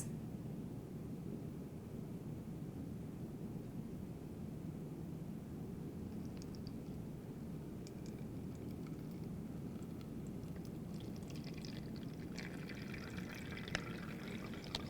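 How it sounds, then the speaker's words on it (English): Water slowly poured into a homemade water filter, a soft continuous trickling wash at low level, with faint splashes becoming more noticeable toward the end. "I'm going to take my water and I'm going to slowly pour it in my water filter"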